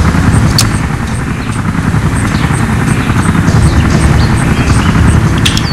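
Helicopter in the video game Life After, a steady loud rotor drone with fast low chopping throughout, plus a few faint high chirps and clicks over the top.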